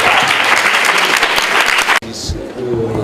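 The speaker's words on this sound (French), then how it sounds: "on l'applaudit très fort" Audience applause at a book dedication ceremony, a dense loud clapping wash for about two seconds, then a cut to lighter, thinner clapping with background noise.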